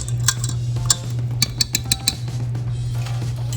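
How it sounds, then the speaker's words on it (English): A spatula scrapes cheesecake batter from the sides of a mixing bowl, making a run of light clinks and scuffs against a steady low hum. "So I'm just scraping the sides so that it can all get mixed in nice and good"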